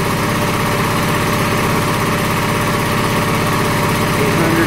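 A 24-volt Predator DC generator engine drives an alternator under a 30-amp load, a loud, steady close-up engine drone with an even, rapid pulsing that holds throughout.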